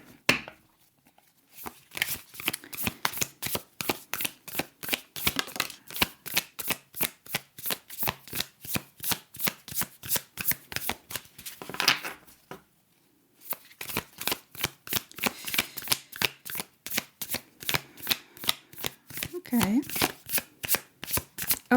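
Tarot cards are riffle-shuffled again and again in quick, crisp bursts close to the microphone, each flurry of snapping cards separated by brief pauses, with one longer gap partway through.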